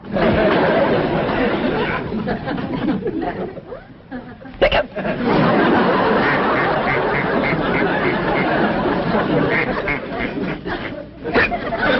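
A pet duck quacks in a classic TV comedy scene, its repeated quacks mixed into busy chatter and laughter that runs almost without a break.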